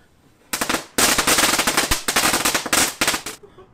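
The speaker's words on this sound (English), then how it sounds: "we have leftover fireworks that I brought" Leftover fireworks, probably a string of firecrackers, going off in a dense, rapid crackling burst that starts, pauses briefly, then rattles on loud and close for about three seconds.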